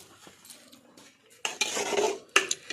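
A spoon stirs lemon pickle in a metal pot with scraping, clinking strokes, first light and sparse, then a louder stretch of continuous scraping and a sharp clank near the end, with no speech.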